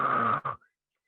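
A voice imitates a tiger's snoring, one long drawn rasping snore breath followed by a brief second snort, close and loud before falling silent.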